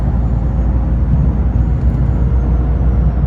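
A BMW 540i with its exhaust valves closed gives a loud, close, steady low rumble and drone that holds evenly throughout, with no speech.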